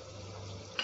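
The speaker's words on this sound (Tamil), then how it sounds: "கரம் மசாலா தூள் சேர்த்து நல்லா வதக்கிக்கலாம்." Turmeric, chili and garam masala powders sautéing in a pan on low flame for mutton biryani, giving a brief, soft, steady sizzle with a small clink near the end.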